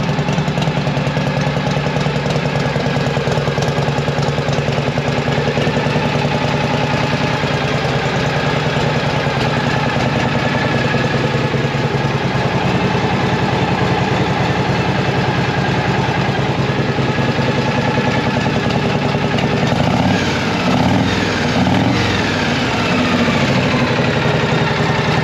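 A flathead or shovelhead motorcycle engine idles steadily and loudly throughout while its carburetor is tuned, with a continuous close rumble and some roughening of the tone near the end.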